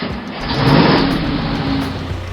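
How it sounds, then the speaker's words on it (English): A pickup truck pulls away after being put in gear, its mid-pitched engine revving steadily and close by for a couple of seconds, with no talk. "Laura said nothing as she put her truck in gear and began driving again."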